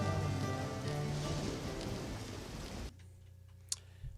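Rain falling in the video game Deadly Premonition, a steady dense hiss at moderate level that cuts off abruptly partway through, leaving a quieter indoor hum with a faint brief click near the end.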